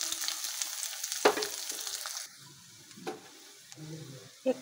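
Nigella seeds, dried chilli and chopped onion dropped into hot oil, a bright sizzle for about two seconds that then drops to a quieter simmer with occasional clicks and scrapes of a spoon.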